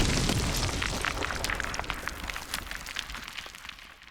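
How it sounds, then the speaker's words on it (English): A stones explosion sound effect: a loud, deep rumbling burst at the start that slowly fades, with scattered crackly debris clicks trailing through the decay. "stones explosion"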